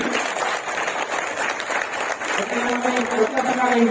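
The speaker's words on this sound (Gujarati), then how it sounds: "એકવાર જોરદાર તાળીઓ, જોરદાર તાળી છે." Loud applause from an audience at a product training program in Botad, a dense steady clapping that fills the whole stretch, with a voice rising over it near the end.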